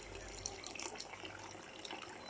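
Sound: water pumped by motor flowing from pipe

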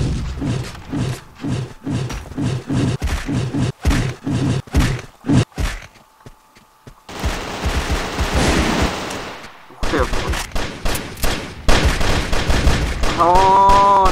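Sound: gunfire shooting in video game Contra City

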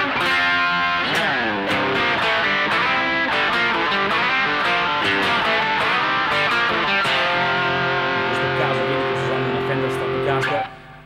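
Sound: electric guitar through a yellow Taxi Driver fuzz pedal

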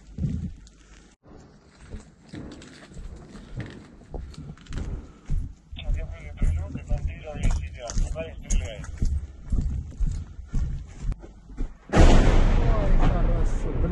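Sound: 150 mm artillery or tank gun firing

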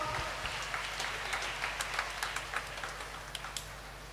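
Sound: children applauding

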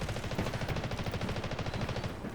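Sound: gunfire in the Delta Force video game

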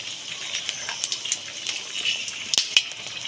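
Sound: dried red chillies sizzling in hot mustard oil

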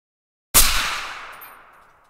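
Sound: rifle gunshots fired from a bipod

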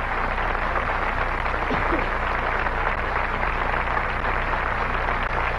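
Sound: audience applause for the orchestra

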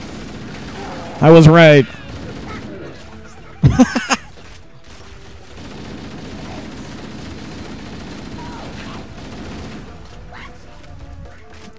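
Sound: gunfire from shooting in the video game Halo Anniversary

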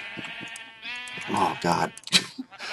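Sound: sheep bleating in video game The Color of Infinity

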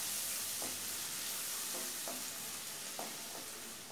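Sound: stir-frying vegetables in a pan

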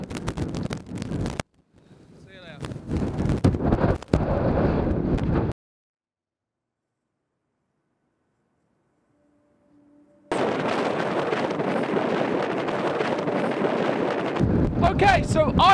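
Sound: strong wind near mountain summit, Snowdon

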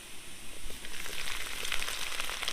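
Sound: frying chopped garlic and ginger in oil

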